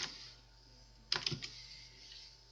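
Keystrokes on a computer keyboard entering a search term, a short burst of several quick clicks in the middle of an otherwise quiet stretch, fairly close.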